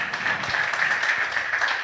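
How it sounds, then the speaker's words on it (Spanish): Sustained applause from a church congregation, steady clapping rolling on throughout without a break. "Dale un aplauso a Dios."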